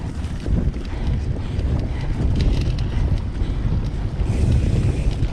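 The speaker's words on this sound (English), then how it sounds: "Lots of wind today." Strong gusting wind roars across the microphone on a mountain bike trail ride at Pinehurst, a steady loud buffeting rumble with no talking.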